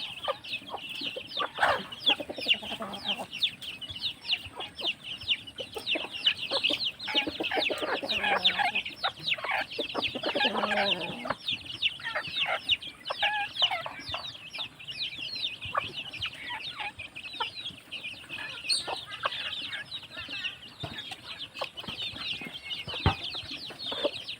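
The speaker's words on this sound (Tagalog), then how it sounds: "Mga manok Bisaya." Native Visayan chickens cluck and chatter in a busy flock, with short repeated calls from several birds at once, a fairly close, steady chorus and a rooster-like cry now and then.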